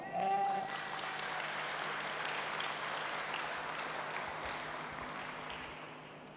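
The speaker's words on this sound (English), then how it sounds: "So I just want you to give yourselves a round of applause." Crowd at an outdoor city groundbreaking ceremony for Babers Manor in Fort Worth applauding themselves, a steady wash of clapping heard at a moderate distance, holding even for several seconds and slowly fading.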